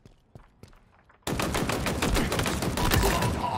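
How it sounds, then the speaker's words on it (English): Sustained machine gun fire from Halo Infinite opens suddenly after a few quiet shots and keeps up as a dense, loud, rapid burst to the end. "Machine guns suit you, Spartan."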